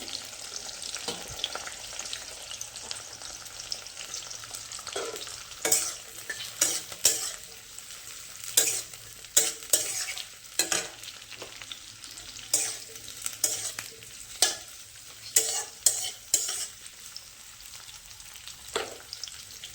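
Continuous sizzling of onions, carrots and spring onion bulbs stir-frying in a pan, punctuated by repeated scraping strokes of a spatula at an irregular rhythm.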